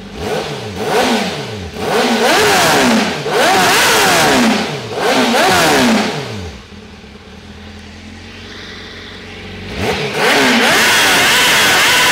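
A Triumph Speed Triple RR or Honda CBR1000RR-R SP sport motorcycle revs hard in several loud, close bursts, drops back to a low idle, then roars up again near the end.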